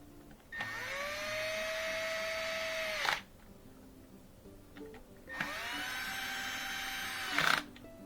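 Two bursts of a cordless electric driver tightening screws during a Miele dishwasher repair, each a steady high whine lasting a few seconds and ending with a brief strained spike, separated by a quiet pause.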